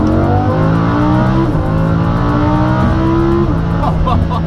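Lamborghini Huracan LP560 with a V10 engine revving loud and close, pitch climbing in two long pulls with brief dips between shifts, engine alone throughout.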